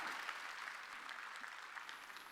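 Congregation applauding at a church Sunday worship service held in a gymnasium, with steady, dense clapping from many hands that fills the room and continues evenly throughout.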